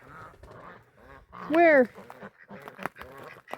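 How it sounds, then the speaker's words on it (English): Farm ducks give one loud honking quack in the middle, with softer bird sounds around it, while a person speaks briefly nearby. "Ducks over here."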